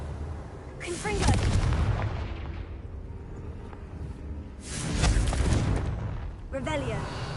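Two heavy booming blasts from the Confringo blasting curse in a Harry Potter video game, about four seconds apart, each swelling and then rumbling away, with a voice heard between them.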